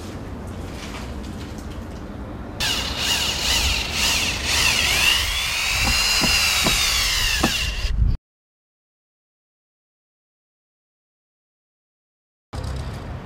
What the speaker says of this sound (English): We're using solar power to power the drill.